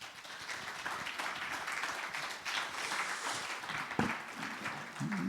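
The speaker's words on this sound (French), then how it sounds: "Je pense qu'on peut les applaudir." A round-table audience applauds at the close of a talk on immersive technologies, a dense, steady clapping that holds for several seconds with a few louder claps rising near the end.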